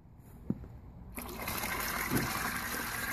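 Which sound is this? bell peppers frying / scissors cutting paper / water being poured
water being poured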